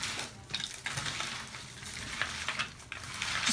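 Spoons tossing a dressed spring mix salad in a bowl, a continuous rustling, clattering toss with light clinks, close and without talk.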